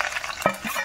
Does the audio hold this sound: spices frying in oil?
yes